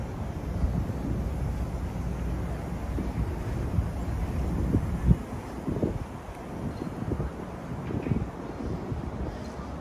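Blustery wind blows by the water along the High Line in New York, a steady rushing roar with irregular gusts and thumps from the microphone, moderately loud with no clear talk.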